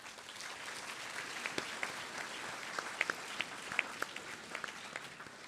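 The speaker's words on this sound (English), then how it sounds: "Please give them a round of applause." Audience applause at a business meeting general session, a steady crowd clapping that holds evenly for several seconds with some sharper individual claps standing out near the microphone.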